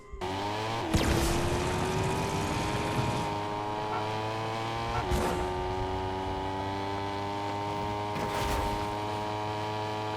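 A Fortnite V12 GT car engine with a buzzy, go-kart-like tone holds a steady drone, with three sharp shifts or revs spaced a few seconds apart; no voices.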